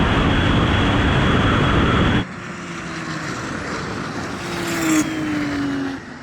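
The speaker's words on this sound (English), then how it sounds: "This turbo just keeps on boosting all the way." A 993-generation Porsche 911 Turbo accelerating hard in a drag race: a loud, dense engine roar with rising gear-by-gear pitch, dropping to a steadier, more distant drone after about two seconds, then a brief swell before fading.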